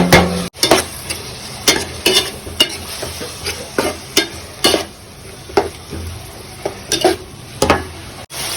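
Capsicum and tomato are stirred in a sizzling pan. A spatula scrapes loudly and repeatedly against the metal in a fairly regular rhythm over a constant frying hiss, close up and with no talking.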